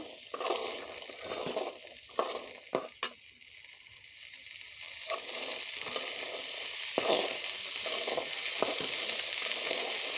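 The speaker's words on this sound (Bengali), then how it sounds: "বেগুনগুলোকে ভালো করে নাড়তে হবে, কিছুক্ষণ নাড়তে থাকতে হবে" Eggplant pieces frying in a pan with a loud, continuous sizzle, stirred now and then with sharp scraping clicks and a few crunching knocks, the hiss swelling louder toward the end.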